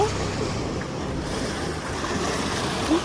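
Big swell waves surge against the shore in a continuous loud, rushing roar of surf, mixed with blustery wind buffeting the microphone.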